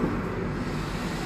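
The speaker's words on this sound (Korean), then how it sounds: "막쉴새 없이 차들이 옆에 다니기 때문에 조금 잡음이 섞여서 죄송합니다" Road traffic rushes past on a busy street in Busan, a steady, dull broadband roar of nearby cars with a low rumble and no distinct individual pass-bys over the brief stretch.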